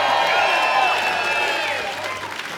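Studio audience at a live comedy show finale at the Gippsland Arts Centre in Warragul cheers and applauds, a dense, steady wash of clapping and voices that stays loud throughout and eases slightly near the end.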